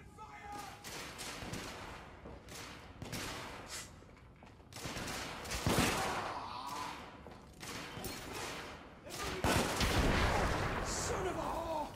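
Heavy gunfire rips through a battle in The Order: 1886, with dense bursts of shots and booming blasts in rolling waves, loud and close, mixed with shouting voices.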